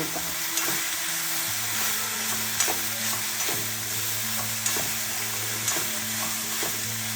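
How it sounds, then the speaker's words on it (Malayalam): Cooked bitter gourd being stirred into a thoran in a pan, soft sizzling under repeated scraping strokes of a spoon at a steady, unhurried rhythm. "കയ്പൊക്കെ വേവിച്ച് ഇതിലേക്ക് ചേർത്ത് വെക്കാം നന്നായി ഇളക്കി"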